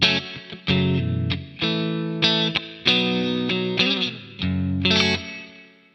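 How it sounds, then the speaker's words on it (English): Joyo JF-20 Moist Reverb pedal on a slightly distorted electric guitar, with a handful of separate strummed chords and short phrases, each ringing out with a moderate reverb tail between pauses. "That's an okay reverb sound."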